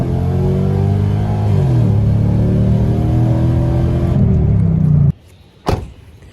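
A Lexus LS400 drift car with an upgraded differential accelerating hard, its engine revving loud and close with a rising pitch through a gear change before cutting off abruptly, followed by a short mechanical thump.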